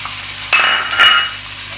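Onions with garlic sizzle in a hot pan as they are sautéed, a steady frying hiss broken by two brief bursts of stirring with a utensil scraping the pan.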